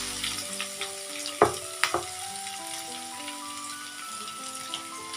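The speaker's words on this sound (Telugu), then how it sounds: "అవి వేగాక కొంచెం కరివేపాకు, కొంచెం కచ్చా పచ్చగా దంచుకున్న వెల్లుల్లి," Curry leaves and crushed garlic sizzling in hot oil for tomato dal, a steady close fry with a couple of sharp spatter pops and clinks early on, no voices.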